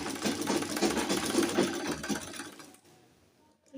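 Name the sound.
sewing machine stitching bias tape hem on a dress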